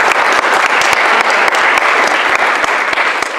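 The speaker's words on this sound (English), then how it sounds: "So please join me in giving a big round of applause to all of our supporters." A lecture hall audience gives a steady, loud round of applause, dense and continuous clapping from many hands throughout, with no voices over it.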